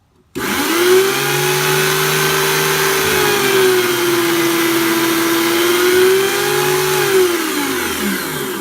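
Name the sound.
tire truing machine cutting a capped tire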